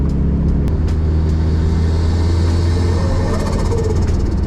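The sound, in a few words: car engine driving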